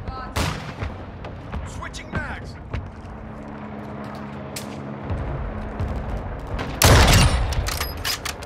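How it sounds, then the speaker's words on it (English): Mortar strike explosions in Call of Duty: Modern Warfare II: a series of sharp booms and blasts scattered across the clip, with a loud heavy impact near the end, amid other battlefield gunfire and game voice callouts. "Friendly mortar strike on the way."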